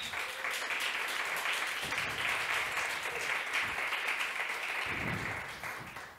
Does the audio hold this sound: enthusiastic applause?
yes